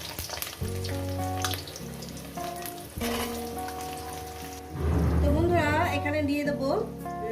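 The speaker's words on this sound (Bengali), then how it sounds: "প্রথমে আমি আলুগুলো দিয়ে একটু" Potatoes sizzle steadily as they fry in a pan, cooked as the start of a ridge gourd and potato posto dish, running under tonal background music and a voice.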